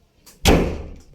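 A single door swings shut with a solid thud that rings out and fades over a moment, close and fairly loud.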